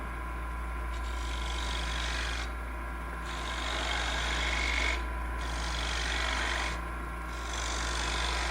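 A small skew chisel cuts a cove into turned wood on a lathe, making a steady raspy shaving hiss that comes in long passes with brief pauses between them, over the constant low hum of the lathe motor.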